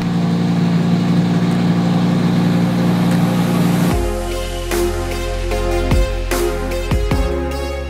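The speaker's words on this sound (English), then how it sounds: "let's put some heat in this engine." A 650-horsepower Lamborghini Urus engine idles steadily up close, a dense continuous rumble that shifts partway through into a deeper, lumpier idle with a few short blips of throttle.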